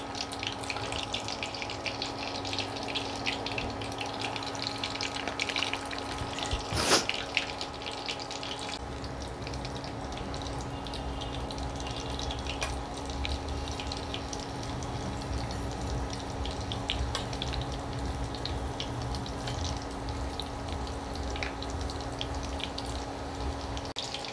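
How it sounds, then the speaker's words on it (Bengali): Chicken drumsticks fry in hot oil, a steady, dense bubbling sizzle that runs evenly throughout, with one brief clatter partway through and no speech. "এবার তেলের মধ্যে আমি এক এক করে ছেড়ে দিচ্ছি।"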